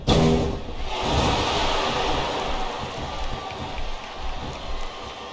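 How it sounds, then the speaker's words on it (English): A capacity crowd in a wrestling arena roars and cheers, a dense, loud, sustained din that swells at the start and keeps pulsing, with no voices standing out. "This capacity crowd is making their opinions known tonight."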